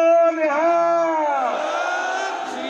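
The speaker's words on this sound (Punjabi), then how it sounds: "ਸੰਮੇਲਨ ਵਿੱਚ ਮੌਜੂਦ ਹਜ਼ਾਰਾਂ ਲੋਕਾਂ ਨੇ ਬੁਲਾਰਿਆਂ ਦੇ ਨਾਲ ਫਤਿਹ ਦੀ ਸਾਂਝ ਪਾ ਕੇ ਬੋਲੇ ਸੋ ਨਿਹਾਲ ਸਤਿ ਸ੍ਰੀ ਅਕਾਲ ਦੇ ਜੈਕਾਰੇ ਲਗਾਏ" Thousands at a Sikh community convention raise a chanted jaikara together, a sustained loud collective shout with drawn-out sung vowels that swells and fades.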